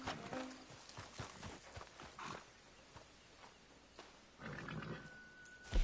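Horse hooves in the video game Red Dead Online, a series of soft clip-clop steps with faint growls and scattered game sounds, quiet and uneven with a louder burst near the end.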